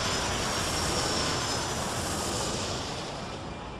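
Airplane engines roar with a steady broadband rush at an airport in the Airport Madness World Edition game, loud and continuous, fading slightly at the end.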